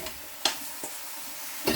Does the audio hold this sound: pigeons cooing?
no